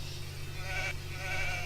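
A sheep bleats in a 2v2 strategy video game match on a Mediterranean map, a short wavering bleat set against steady game ambience and low background tones.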